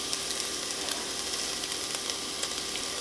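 Hot Italian sausage frying in a pan while being chopped up with a spatula, a soft continuous sizzle with small ticking crackles and light scraping taps, close and steady without talk.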